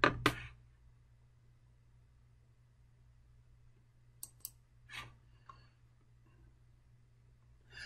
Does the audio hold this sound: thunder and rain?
no